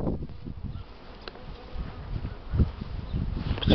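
Honeybees buzzing around a hive in spring while out gathering pollen, a steady close drone with individual bees passing near and rising louder toward the end, with no talk.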